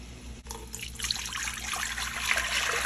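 A stream of water, four cups, pours steadily into a pot for grits, splashing and rising slightly in pitch as it fills, with no voices.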